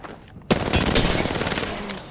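Apex Legends gunfire opens suddenly after a short quiet, then a close, loud automatic burst of rapid shots rattles on steadily and fades slightly toward the end.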